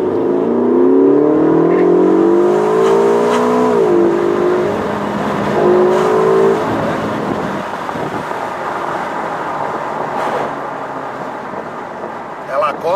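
A Ferrari California T on a Maranello test drive, its engine revving and accelerating with rising harmonic tones, loud and close throughout, while people talk in the cabin.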